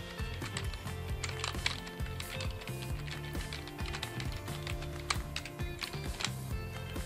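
Typing on a Spirit Of Gamer ELITE K9 keyboard, a dense, steady run of close keystroke clicks throughout, over a continuous low tonal background of music or hum.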